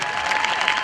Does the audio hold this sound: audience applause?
yes